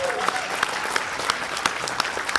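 At a Star Trek Continues fan panel, the convention audience applauds, a steady wash of clapping with a few sharp individual claps standing out regularly near the front.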